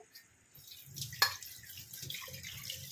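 Water poured from a tap into a freshly rinsed bowl while cooking coconut ash gourd, a soft splashing trickle that starts after a short quiet moment and continues steadily, with a small clink near the start.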